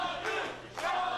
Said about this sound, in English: And the crowd is excited to see the return of the Von Dooms.